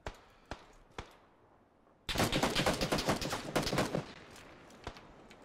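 Gunfire in the shooter game PUBG: a few isolated distant shots, then a dense burst of rapid fire lasting about two seconds, followed by one more single shot.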